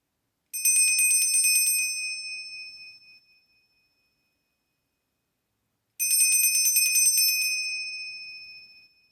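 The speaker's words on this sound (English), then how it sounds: "I am going to do a quick bell cleansing" Two separate bright bell strikes for a cleansing ritual, each ringing out clearly with a long shimmering decay, spaced several seconds apart in a quiet room.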